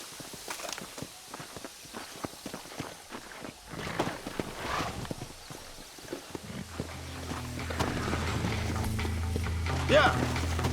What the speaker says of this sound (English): Come on, horses are over here.